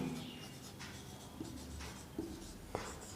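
Chalk or marker writing on a board during a school maths lesson on irrational numbers, a soft scratchy stroking sound in short quiet bursts with small taps, alone in a quiet room.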